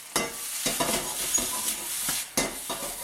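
Butterflied prawns frying in a pan: a soft, steady sizzle with intermittent scraping and light clinks as they are stirred, fairly quiet, with no talk.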